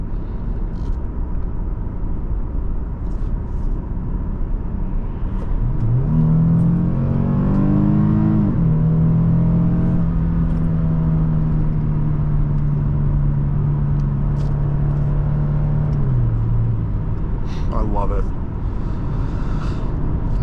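A 2007 Lexus GS350 AWD accelerates on a test drive, its engine rising in a steady climbing drone that holds, then eases off. Someone talks over the engine throughout.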